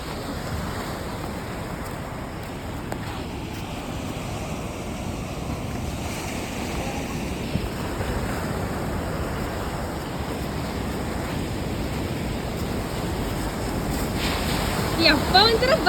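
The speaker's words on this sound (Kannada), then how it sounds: "ಸೌಂಡ್ ಅಲೆಗಳ ಸೌಂಡ್ ಕೇಳಿಸ್ಕೊಳ್ರ." Ocean waves crash and roll in a continuous broad wash, heard from a boat amid heavy wind buffeting on the microphone, with the surge growing louder toward the end.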